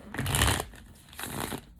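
Tarot cards are shuffled by hand in two quick papery bursts with a brief pause between them, close and clear with no talking.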